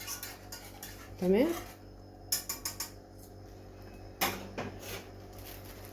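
A pot of rice for creamy rice pudding being stirred with a utensil, giving scattered metallic clinks and scrapes against the pot, close and moderately loud, with a brief spoken word.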